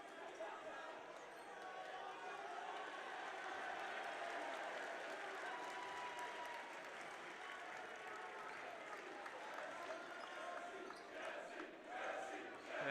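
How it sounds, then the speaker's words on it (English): High school basketball crowd at a BC High game against Lynn English, cheering and chanting steadily for a senior in his last game, a dense roar of many voices filling a gym, with ball bounces and squeaks scattered through it. "a good gesture by the VC High crowd chanting for Jesse Maggs, the senior, who will be playing in his last game tonight"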